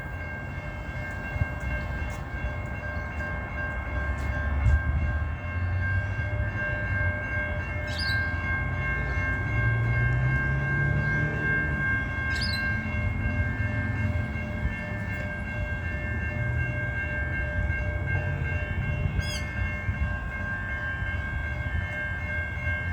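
A train passes the Park Terrace railway crossing at the Salisbury Interchange, a steady loud rumble with rail noise and sustained tones lasting throughout, plus a few brief high chirps and no talking.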